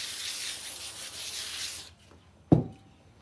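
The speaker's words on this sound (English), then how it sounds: "These old nasty gray cables can be cleaned up really nice. with good old CRC carb cleaner." Old, grimy gray cable being scrubbed clean with CRC carb cleaner: a steady, close, broadband rubbing for about two seconds, then quiet and a single sharp knock.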